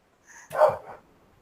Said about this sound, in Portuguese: Os cachorros aqui latindo.